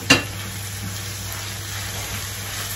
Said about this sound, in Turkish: Kıymayı da şöyle güzelce kavuracağım.